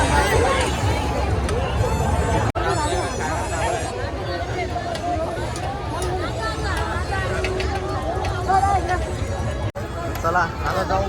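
Dense crowd hubbub fills a busy food area at a Bhiwandi fair, with overlapping voices and chatter throughout, steady and loud, broken by two brief dips.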